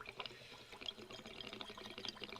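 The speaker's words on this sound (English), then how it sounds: "I'm using filtered water out of a jug." Filtered water pours from a jug into the reservoir of a Mr Coffee 4-cup Simple Brew coffee maker, a steady soft splashing trickle that runs throughout at low level.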